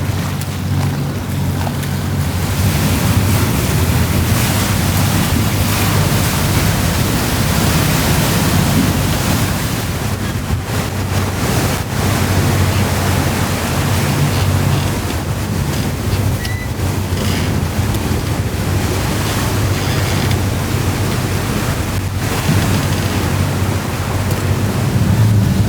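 Open-ocean waves and wind at sea several days from land, heard from a sailing boat: a loud, continuous broadband rush with wind buffeting the microphone, steady throughout and without talk.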